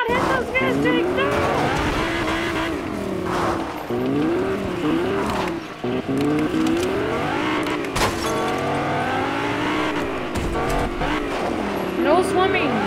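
Engine drone of a car being driven in the video game Fortnite, running steadily throughout under near-constant excited talking and shouting from players.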